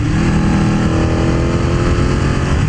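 A Ducati V-twin motorcycle on its stock exhaust runs with a steady, throaty low rumble, close and loud throughout, with no talking.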